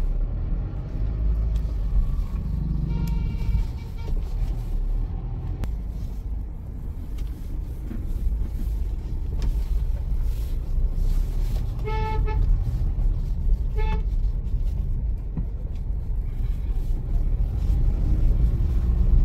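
Cars and motorbikes driving along a road, a constant low engine rumble and road roar with several short horn toots going off in the middle of the passage.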